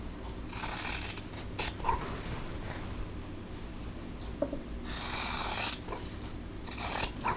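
Scissors trim the seam allowance on a fabric quilt block, giving a few short, close rasping cuts in separate bursts with quiet pauses between.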